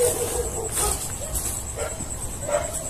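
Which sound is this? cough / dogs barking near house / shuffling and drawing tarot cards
dogs barking near house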